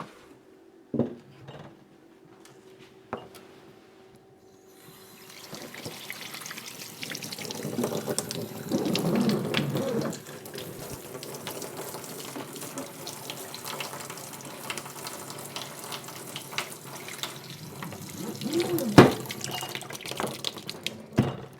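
Water poured steadily over soil to soak it thoroughly for winter sowing in an unheated greenhouse, a long continuous splashing flow after a few quiet knocks, moderately loud and near, ending with a sharp clunk.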